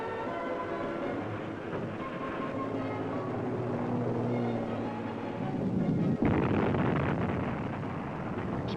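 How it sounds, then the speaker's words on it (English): Rock-blasting explosion in the Hoover Dam canyon on the Colorado River: one sharp blast cracks out over a steady, heavy rumble, then a dense burst of rolling, crumbling noise follows. "Explosions rocked the canyon almost daily for 2 years"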